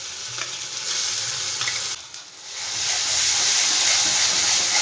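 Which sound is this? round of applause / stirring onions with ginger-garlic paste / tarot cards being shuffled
stirring onions with ginger-garlic paste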